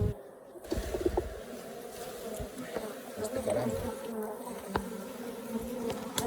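Bees buzz steadily around a hive, a dense close insect drone, with someone speaking briefly over it.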